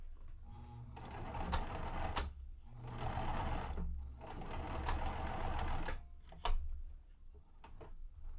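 Sewing machine back stitching a tote bag seam, several runs of rapid close mechanical whirring and ticking separated by short pauses, with no talk.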